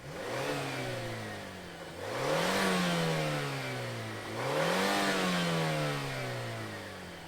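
The engine of a 2023 Mazda CX-50 Meridian Edition drives off, the revs climbing and falling back across two smooth shifts, a steady mid-pitched drone heard from outside with no talking.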